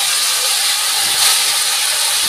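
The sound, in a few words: fish added to hot mustard masala, sizzling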